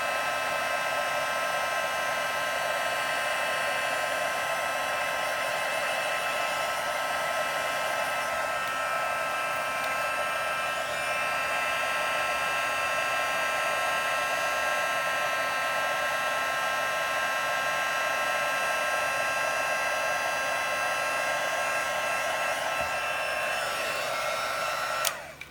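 A heat tool blows steadily while embossing powder is melted on a handmade card, a continuous whirring, dryer-like drone heard close and alone for about twenty-five seconds.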